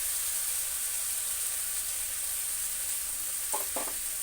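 Ground garlic paste with salt and turmeric sizzles steadily in hot oil in a home kitchen, a close, continuous frying hiss with two brief stirring knocks near the end.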